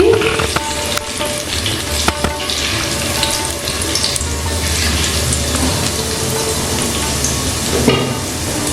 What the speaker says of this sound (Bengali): ডালটাকে একটু নাড়াচাড়া করে নিচ্ছি।